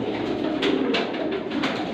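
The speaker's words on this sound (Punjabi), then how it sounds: "ਬਹੁਤ ਹੀ ਵੱਡਾ ਫਿਰੋਜ਼ਪੁਰੀ ਕਬੂਤਰ ਜੇ" Steady, crowded cooing of many Ferozpuri pigeons close by, with a couple of brief sharper calls cutting through the low, continuous murmur.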